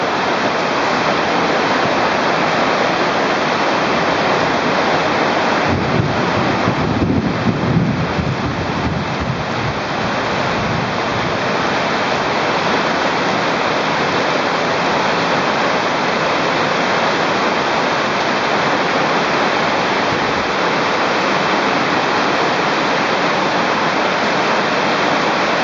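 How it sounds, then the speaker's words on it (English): A mountain creek in Yelapa during the rainy season rushes down as a waterfall into the ocean, a loud, steady, broadband roar of falling water that fills the scene without pause. "There's a creek coming from the mountain, dashing down, forming a waterfall that goes into the ocean."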